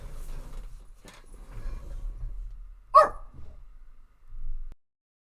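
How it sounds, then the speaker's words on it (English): A pet dog gives one sharp, loud bark indoors, set against quieter background shuffling and a few softer low sounds before and after. "Sorry guys, my dog."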